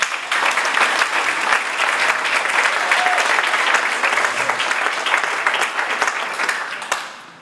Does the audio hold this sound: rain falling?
no